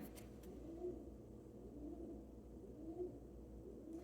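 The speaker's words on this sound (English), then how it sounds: "there's a pigeon on my balcony, and she or he is making that cooing sound" A pigeon on a balcony coos softly in repeated low phrases, faint and somewhat distant over a steady background hum.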